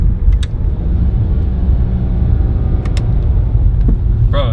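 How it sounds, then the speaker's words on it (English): A BMW E90 with retrofitted paddle shifters driving and downshifting: loud, steady engine and road rumble from inside the cabin with a brief shift-related change near the end and faint sounds over it. "And then downshift."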